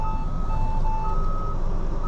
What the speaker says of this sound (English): 53 footer is backing up. Everybody is gonna hear that.